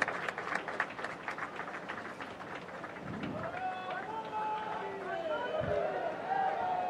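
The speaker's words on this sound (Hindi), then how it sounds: "बाईं ओर की दर्शकों से अनुरोध है जोरदार तालियों के साथ अभिनंदन करें माननीय मुख्य अतिथि महोदय का" Spectators at a Telangana Liberation Day parade ceremony applaud in a brief, scattered burst, close at first, then it fades under crowd noise and an announcer's voice over a loudspeaker.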